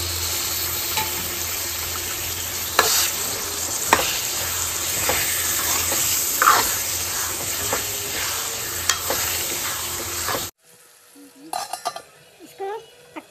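Tomatoes fry in a pan for Mumbai-style pav bhaji, a steady, close sizzle with occasional stirring clinks for about ten seconds. Then it cuts to a quiet stretch with a few light clinks.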